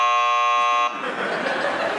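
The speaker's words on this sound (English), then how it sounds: "Didn't you hear the bell ring?" A school bell rings as one loud, harsh electric buzz lasting under a second, followed by a noisy burst of audience-like commotion.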